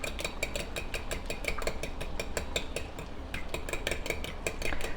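Shrimp cooking in a wok for pad thai, heard as a quick, steady run of metallic clinks and scrapes from the utensil against the pan, fairly close and constant with no talking.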